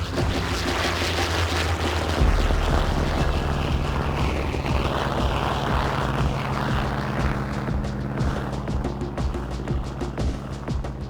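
Propeller airplanes on a restored 1930s film soundtrack give a steady, loud droning engine hum that fills the whole stretch without pause, with no talk over it.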